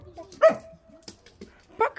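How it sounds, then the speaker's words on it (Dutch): A dog barks and whimpers in short yips near the mic, with gaps of quiet between them and occasional background voices. "Ja, dus dan kan je blaffen."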